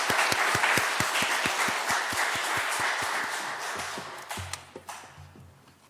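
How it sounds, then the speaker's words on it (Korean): A church congregation at a Sunday worship service applauds together, with rhythmic clapping, loud at first and gradually thinning out, then fading toward the end. "하나님께 박수로 감사의 영광을 올려드리겠습니다"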